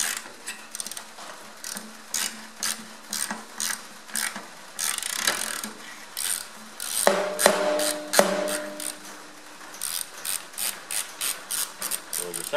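Spanner ratcheting on the thermostat housing of a Ferguson TED20 tractor, giving a steady run of sharp metallic clicks in quick bursts close by, with a few louder clanks midway and no talking.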